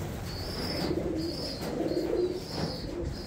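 Racing pigeons in a breeding loft give soft, repeated throaty coos in short rolling phrases, close by over a light background hum.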